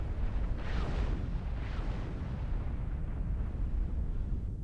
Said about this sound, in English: they're just using nukes to defend